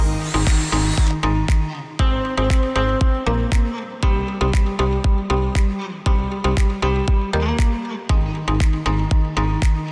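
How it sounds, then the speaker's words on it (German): A power drill bores deep into wood while door insulation is being fitted, sounding loud and close in repeated bursts of whining motor and grinding bit, with short pauses between bursts. "weil das Holz jetzt ein bisschen verletzt ist, weil wir ja in der Tiefe gebohrt haben"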